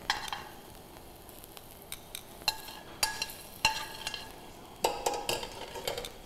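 Tofu pieces pan-frying and browning in a hot pan, a steady soft sizzle with sharp clinks and scrapes of a utensil stirring and turning them at irregular moments; no talking.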